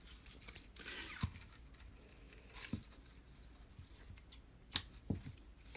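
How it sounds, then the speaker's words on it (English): Scissors snip Bowdabra bow wire in a few sparse, sharp clicks spread across a quiet stretch, close and soft with no talk. "So now let's cut another piece of our Bowdabra wire right here."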